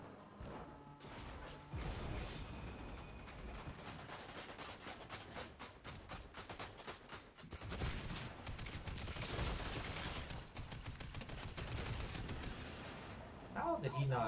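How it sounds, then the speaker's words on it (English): Cannon fire in a Fortnite no-build match, heavy booming blasts mixed with dense gunfire and crashes that persist throughout, with a voice talking over the action. "shoot him with the cannon"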